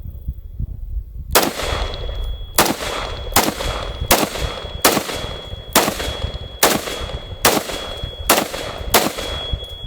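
A piston-driven 5.56 rifle in a 16-inch folding-stock configuration fires eight evenly spaced loud shots after a quiet start, each a sharp crack with a short ringing tail, close to the listener.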